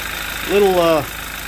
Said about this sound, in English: Man, she's running.